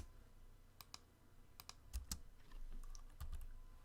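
Keys on a computer keyboard click in short, irregular bursts, close by and quiet, with a faint background hum.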